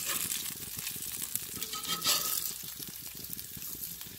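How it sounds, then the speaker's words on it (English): Bacon sizzles and crackles in a pan at a camp, flipped with a spatula, a steady faint fry with light scraping and a brief swell of sizzle midway; no talk. "You have to flip your bacon with a spatula."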